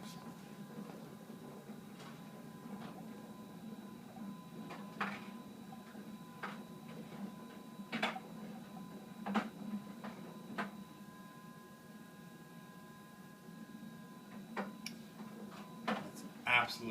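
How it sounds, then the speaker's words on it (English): A Samsung clothes dryer tumbles freshly spun laundry, running very quietly: a low, even hum underneath with scattered soft clicks and light knocks at irregular intervals. "that's absolutely the loudest it gets for a dryer. I've never in my life heard a dryer so quiet."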